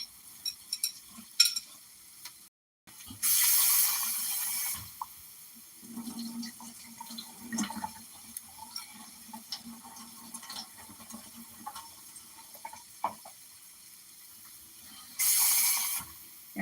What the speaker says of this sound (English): I wash my rice until the water comes out nice and clear.